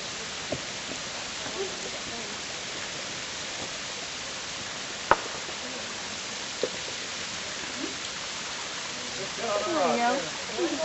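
A Hawaiian waterfall flowing low on water gives a steady, even rush of falling water across the clip, with a couple of sharp clicks and brief voices toward the end.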